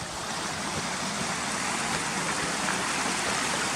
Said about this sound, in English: The river's not running that fast today